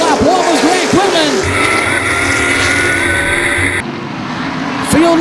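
Race cars of the ARCA/CRA Super Series roar around the Baer Field Speedway short oval, engines loud and continuous with rising and falling passes, under a commentator's voice and crowd noise.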